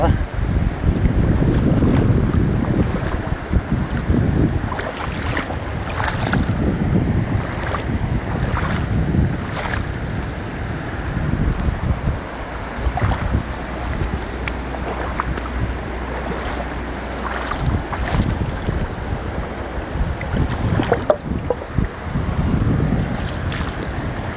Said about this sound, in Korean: 사방에 물소리만 들리네요